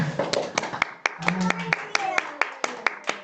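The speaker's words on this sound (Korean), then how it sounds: "하나님께 영광의 박수 올립니다." Church congregation clapping during a Sunday worship service, a loose run of sharp hand claps at a steady rhythm, with voices and a sustained tone underneath.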